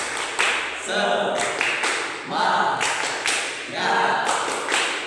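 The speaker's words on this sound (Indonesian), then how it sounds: "1, 2, 3, tepuk semangat." An elementary school class claps out the 'tepuk semangat' rhythm together, loud bursts of hand claps in a repeating patterned beat with voices chanting along.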